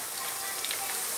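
Zucchini frying in hot oil, a dense, steady sizzle with crackling spatter throughout, fairly close and continuous, with no talk.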